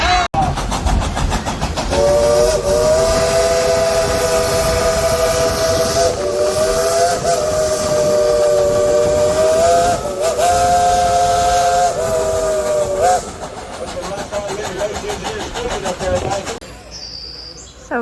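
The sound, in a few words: steam train whistle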